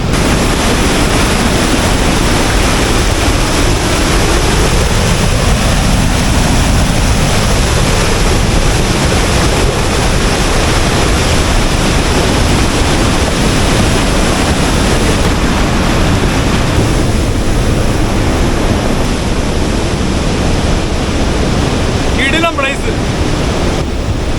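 Turbulent river water rushing loud and constant at Mahilekhya Waterfalls in Tamil Nadu, a dense roar of churning flow filling the whole stretch with no pauses.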